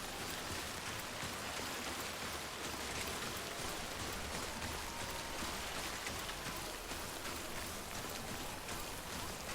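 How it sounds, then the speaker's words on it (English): Steady, dense rainfall in the video game Death Stranding, a continuous broadband hiss of drops pattering on surfaces, loud and unbroken throughout with no voices. "No BT, it's just non-stop rain."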